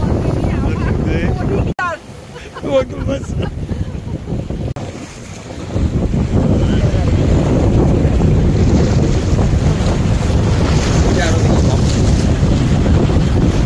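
Speed boats run on the Atlantic off St. Pete Beach, a loud steady engine and hull roar mixed with strong wind buffeting and wave noise, with brief voices near the start.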